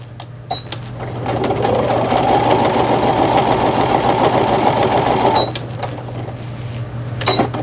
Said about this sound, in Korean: 그 직선 바느질 잘 되면 되는 거예요